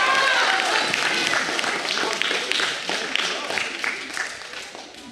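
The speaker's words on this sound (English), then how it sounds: "Noah's got a cheering section" Clapping and cheering from an audience at the Dassa McKinney awards ceremony, a dense burst of applause that thins out gradually, with a voice heard over it.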